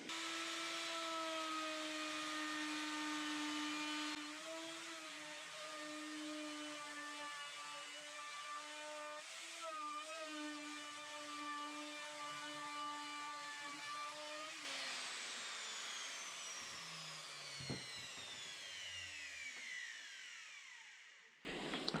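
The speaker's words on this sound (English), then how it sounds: "Alright, so just going to router the edges of this now." A router whines at a high, steady pitch while edging a redgum slab, the tone dipping briefly under load as it cuts, then spinning down near the end with a falling whine.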